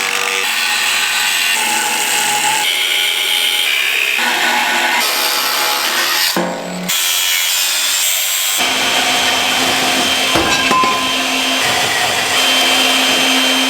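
Steel upright of a homemade shop crane being cut down by six inches with a power saw outdoors, a loud continuous grinding rasp that drops out briefly around the middle, then resumes with a shifting tone until the end.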